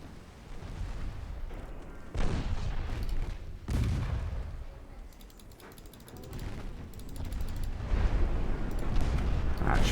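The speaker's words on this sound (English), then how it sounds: "Some torpedoes going out finally." Torpedoes launch from a warship in a naval combat video game, heard as heavy booming blasts and rumbling over steady game noise, with a few sharp onsets spread through the stretch.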